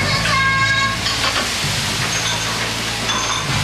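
Stir-frying in two woks at a busy Chinese restaurant kitchen: loud continuous sizzling and scraping with clanking metal over a roaring burner, dense and close throughout.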